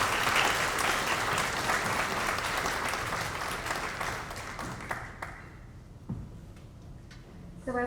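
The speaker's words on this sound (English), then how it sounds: "Let's give them a round of applause, please." At a veterans ceremony in Granite Falls, the audience claps for the choir, soloists and bands. The applause starts loud and dense, then thins out to scattered claps and fades away.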